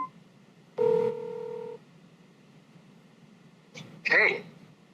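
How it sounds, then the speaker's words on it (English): A Humane AI Pin places a phone call: a bright steady dialing tone sounds for about a second, then after a pause a short ringing chirp follows, clear and close against quiet room noise. "Of course, you can make a phone call."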